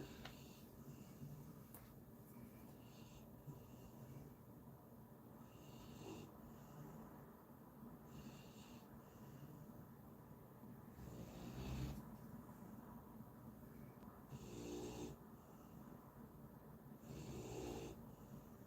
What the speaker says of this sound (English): hence the deep snore.